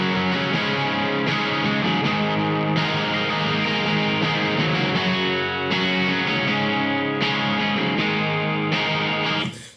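A distorted electric guitar through hot-rodded Fishman Fluence Classic humbuckers, fitted to a 1978 Greco, plays loud, sustained chords with several sharp re-attacks across about ten seconds, cutting off abruptly at the end.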